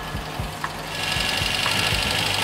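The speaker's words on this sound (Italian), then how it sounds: "E qua il minimo non va malissimo" A Fiat 127 engine idles with a steady, slightly uneven knocking pulse, struggling to rev, rising a little in loudness partway through, with no talking.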